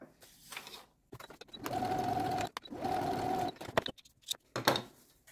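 Two bursts of a sewing machine stitching a seam on a patchwork fabric pouch, lining and body layers, with clicks and fabric handling between runs, close and clear with no talk.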